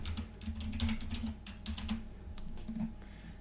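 Typing on a computer keyboard while entering comments for milling operations in GibLab furniture-design software: a steady run of close, crisp key clicks with short pauses, alone without talk.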